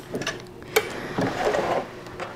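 Sewing machine stitching the end of a denim seam on a tote bag, with short rattling bursts of needle strokes and clicks, fairly close and moderately loud.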